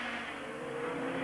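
1984 Formula One cars at the Monaco Grand Prix scream past in a short continuous burst, engines loud and steady with a slight rise in pitch.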